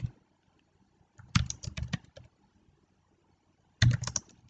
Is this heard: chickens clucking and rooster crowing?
no